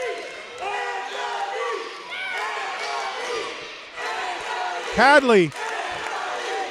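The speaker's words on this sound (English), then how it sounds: "confused, befuddled at the crowd chanting for Anthony" A wrestling crowd at the Ring Riot Event Center chants for Anthony, a loud rhythmic mass of voices with a sharp shout rising above it, while a commentator talks over the noise.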